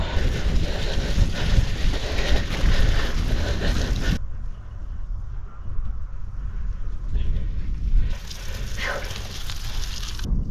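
Strong headwind on a club bicycle ride buffets the microphone in a loud, rough roar that suddenly drops to a quieter rushing gust before swelling again.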